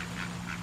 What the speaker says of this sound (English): And these are crested ducks.